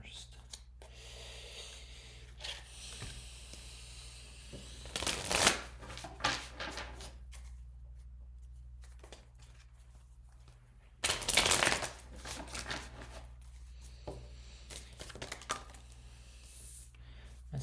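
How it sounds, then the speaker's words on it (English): Quick papery riffles of cards being shuffled, two louder bursts among softer handling noises, close by. "Let me shuffle these first."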